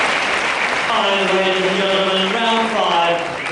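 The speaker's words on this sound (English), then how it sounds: "But listen to that applause. For both men, of course." Big, steady applause and cheering from the crowd at a wrestling bout fill the hall, while an announcer calls out over a loudspeaker.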